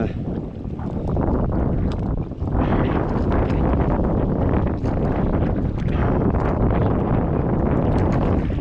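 Strong wind roars steadily against the microphone aboard a fishing boat on the Pacific, a loud, continuous rumbling buffet with no pauses.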